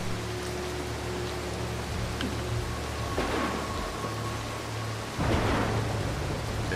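Thunder rolls over steady rain in the stealth game Mark of the Ninja, with a louder crash near the end breaking through the constant downpour.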